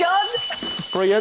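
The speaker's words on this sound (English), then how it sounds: "That's my fire alarm now gone off." A smoke alarm set off by a cooking mishap on live TV sounds a steady, high-pitched tone throughout while someone speaks over it.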